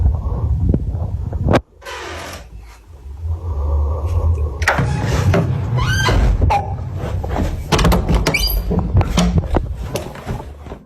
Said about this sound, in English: The door slowly creaks open, pauses for a moment, and then suddenly slams shut.